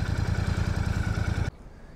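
A 2025 Royal Enfield Bear 650 idles close by with a steady low, rhythmic thumping, then the engine note drops away abruptly near the end.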